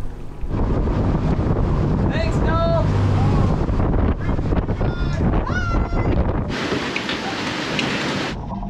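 Strong gusts of wind buffet the microphone in a loud, continuous roar, with some high squeaks and a brief hiss near the end.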